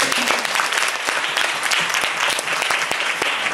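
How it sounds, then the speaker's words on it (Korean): An audience at a talk event claps together, giving a dense, lively burst of applause with sharp individual claps standing out, steady and fairly close for a few seconds. "이거 박수 한 번만 쳐주실래요?"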